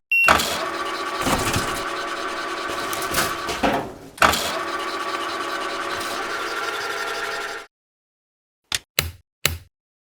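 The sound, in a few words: garbage truck engine running in a video game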